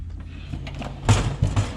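A greasy junk drawer in a garage workshop slides in a short scraping movement and ends in a couple of light knocks, close by with no talking.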